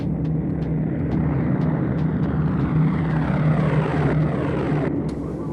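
A Junkers propeller aircraft bearing swastika markings flies close by, its engine drone loud and steady throughout with no pauses or other sounds over it.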